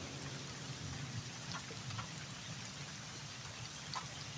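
Steady, soft rain from Typhoon Enteng patters continuously with occasional distinct drops, a quiet, even hiss and no talking.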